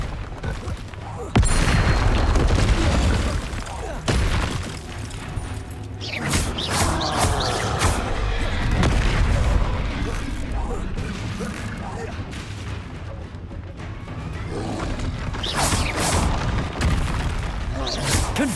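Booming fiery spell blasts from Confringo and Bombarda go off in rapid succession during combat in Hogwarts Legacy, dense and loud with crashing impacts, mixed with shouted spell incantations throughout.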